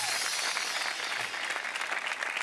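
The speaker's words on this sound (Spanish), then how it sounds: "Un aplauso para Aleix Espargaró" Audience applause on a late-night talk show filmed in Ibiza, a dense, loud, continuous wash of clapping from a studio crowd that holds steady throughout.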